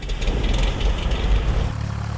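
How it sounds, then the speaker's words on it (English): Steady low engine drone of a Cessna 172 propeller airplane in flight, continuous and fairly loud throughout with no speech. "Dave Hirschman took Tom and Jeff for a flight"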